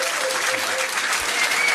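An audience at a pub trivia quiz night breaks into a short burst of lively applause, many hands clapping together at once, with a voice briefly audible over it.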